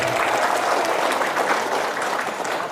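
A crowd at a political speech gives thick, continuous applause for Indonesian women, steady and fairly loud from start to finish, with some cheering voices underneath.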